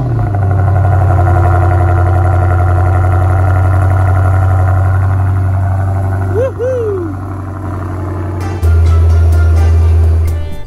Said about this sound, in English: So far on the channel, we have not had a cold start with the new FI exhaust.